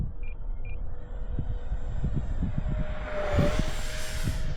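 An RC model NGAD jet flies at 40% throttle, its engine a steady rumbling whine that swells louder toward the end as it passes closer, heard alone without talk.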